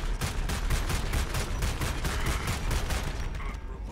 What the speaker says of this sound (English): Somebody's throwing up hard fire at us.